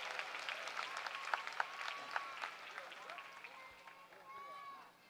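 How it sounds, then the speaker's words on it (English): Audience applause at a December 2017 university commencement ceremony: a fairly quiet patter of many hands clapping with a few sharper claps standing out, fading toward the end, with voices mixed in. "Let's give our students another round of applause."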